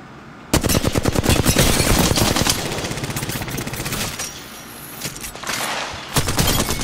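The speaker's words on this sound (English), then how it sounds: "He's shooting my boy." Sustained automatic gunfire in a video game rattles loud and close in rapid dense bursts, briefly thinning before another volley near the end.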